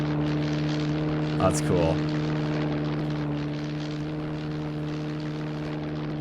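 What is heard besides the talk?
WWII aircraft flying overhead in the video game UBOAT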